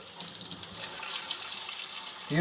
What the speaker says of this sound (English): You'll take a little bit of water,